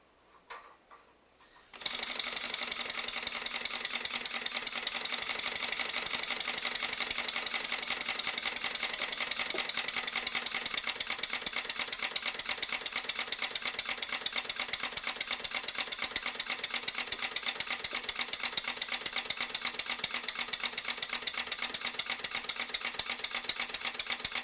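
An ST4 dual-acting steam engine starts after a brief quiet moment and then runs steadily, giving off a dense, fast, even mechanical chatter of clicking, ticking valve and piston action that stays loud and constant to the end, with no voices.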